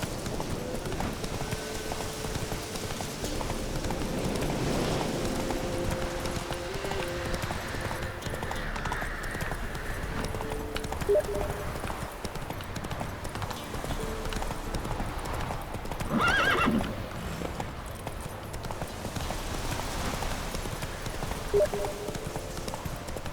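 Steady clip-clop of horse hooves trotting throughout, with a horse neighing partway through, close and continuous, in the video game The Witcher 3.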